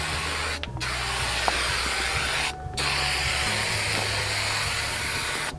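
A Rust-Oleum Turbo truck bed liner spray can sprays a third coat in a loud, close, continuous hiss, broken by two short pauses between bursts, with no voices.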